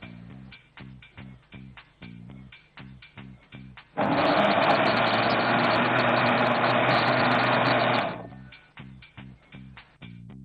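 Mixer grinder blending condensed milk for a mango paneer cake, a loud steady whirring roar lasting about four seconds in the middle, with spoken voices before and after it.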